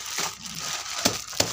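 A plastic wrapper crinkles close by as jewellery is unpacked. It gives soft continuous rustling with two sharper crackles near the end.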